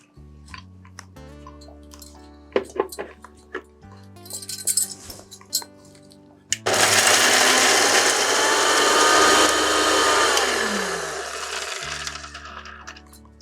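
Electric grinder blending spices into a paste for Bengali-style paneer kofta: clinks and knocks of handling and loading, then a loud sustained whir that runs several seconds before winding down, over a faint steady musical background.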